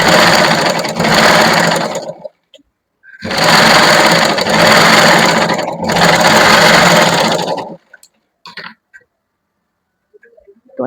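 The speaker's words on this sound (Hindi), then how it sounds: "यहाँ से सीधे बाजू की स्टिचिंग कर लेनी है।" Sewing machine stitching the side seam of a kurti, three loud close bursts of steady rapid motor clatter separated by short pauses, then quiet handling.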